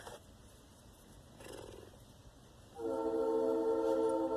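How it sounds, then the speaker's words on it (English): A passing train with its horn sounding strongly in the latter part, loud sustained tones starting after a quieter stretch of background noise, heard outdoors near a 1998 Volkswagen Golf under repair. "And loud trains."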